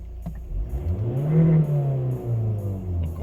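A 2016 Volvo V60 2.0 diesel engine with automatic transmission revs up with a rising drone, holds high, then drops back to idle, close and loud with no talking.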